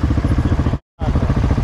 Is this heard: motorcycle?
yes